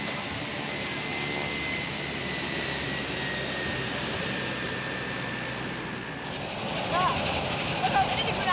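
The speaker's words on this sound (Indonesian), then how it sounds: "Pesawat ini digunakan untuk membawa pupuk." An airplane used for spreading fertilizer drones steadily overhead, an engine whine with a high tone holding level, then shifting and rising slightly near the end, with a voice talking over it.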